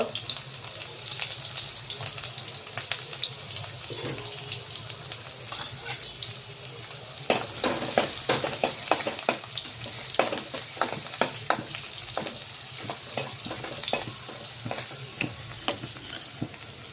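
Peeled garlic cloves dropped into two spoons of hot oil and stirred, with a steady close sizzle, rustling stir noises and a run of sharp clicks and scrapes from the spoon on the pan through the middle, with no talk.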